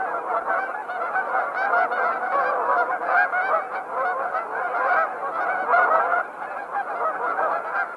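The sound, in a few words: geese honking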